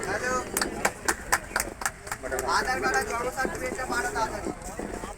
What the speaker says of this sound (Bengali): হাততালি একটু।